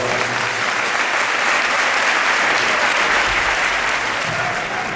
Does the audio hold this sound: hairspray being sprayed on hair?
no